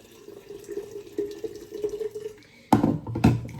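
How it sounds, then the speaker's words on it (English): Water poured from a kettle onto plantain leaves to steep a herbal tea, with a soft trickle at first and then a louder splashing pour in two short bursts near the end. "now I'm just going to add water"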